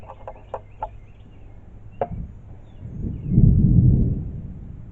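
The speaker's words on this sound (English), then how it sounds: "that's thunder in the background" A low, distant rumble of thunder swells and fades near the end, after a few sharp clucking calls from fowl nearby.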